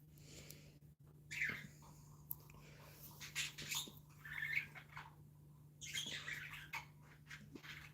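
Faint, scattered chirps and squawks from pet birds come in short bursts over a steady low hum, with quiet gaps between calls.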